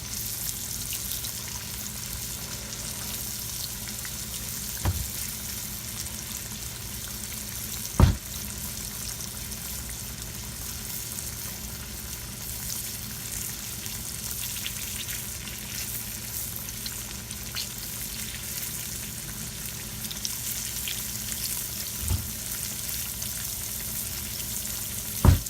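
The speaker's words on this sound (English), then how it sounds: "my oil's way too hot. It's the first time I ever used this to deep fry" Green tomatoes deep fry in overly hot oil, a steady dense hiss of bubbling that runs throughout, broken by a few faint clicks.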